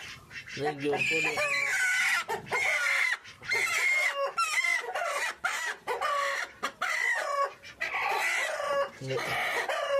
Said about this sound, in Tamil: இவன் முட்டை போடுறதுனால வந்து இங்கே உட்காந்துருக்கான் பார்த்தீங்களா இவ்வளோ தொட்டது என்ன ஒரு சவுண்டு அப்பா